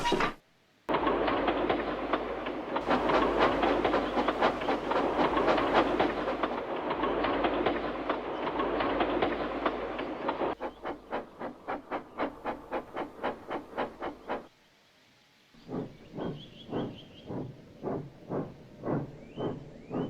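A train rumbles along with a steady, dense clatter, then shifts to rhythmic puffing chuffs that slow and spread out toward the end.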